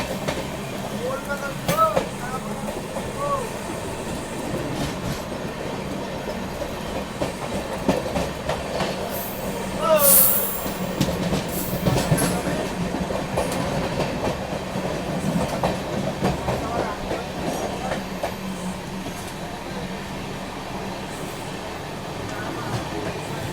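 Netaji Express passenger train running on rails, heard from inside with a continuous loud rumble and rhythmic clickety-clack of wheels, a brief squeal midway, and some voices under the noise.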